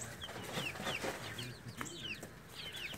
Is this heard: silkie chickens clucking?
yes